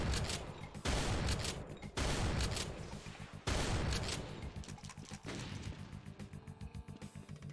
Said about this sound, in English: This is my sniping shotgun.